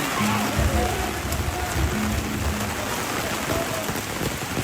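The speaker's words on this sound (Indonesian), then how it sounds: "Ay, hujan guys" Steady rain falling outdoors at a funeral gathering at a traditional Toraja tongkonan house, a dense continuous patter with occasional drips, loud and close throughout.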